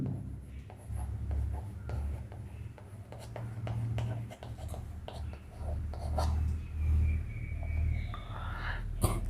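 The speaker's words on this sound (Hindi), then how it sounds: "तो हम वो लिखते हैं" Marker or chalk writing on a board during a Class 11 vector lecture, scratchy strokes repeating in short bursts over a low steady hum, with a voice speaking quietly in places.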